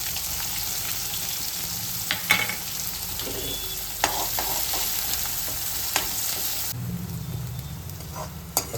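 Onions frying with curry leaves and tempering spices in a pan, a continuous dense sizzle with occasional scrapes and taps of a spoon, the frying noise dropping and changing near the end.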